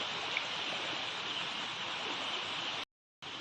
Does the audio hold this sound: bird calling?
no